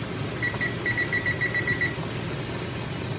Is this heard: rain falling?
no